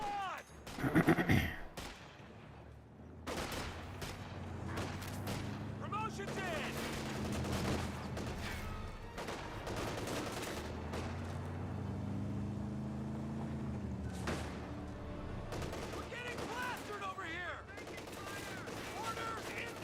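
An MG34 machine gun fires in a Company of Heroes 2 battle, bursts of gunfire and explosions rolling over a constant rumble of combat and engine noise, with someone talking over it.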